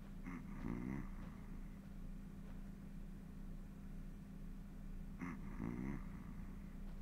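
Two slow, deep snores from a sleeping character in the video game GTA San Andreas Definitive Edition, each a rasping inhale several seconds apart over a low steady hum, with no talking.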